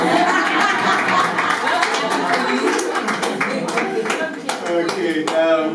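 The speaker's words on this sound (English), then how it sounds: "We can continue clapping" An audience claps at an entrepreneurship talk, a loud, continuous crowd applause with crisp individual claps standing out and faint chatter underneath.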